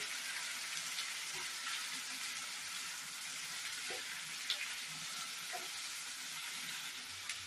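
Tomatoes and cashews sizzle and fry in a pan while being stirred, a steady close hiss with soft scraping and occasional clicks of the spoon against the pan.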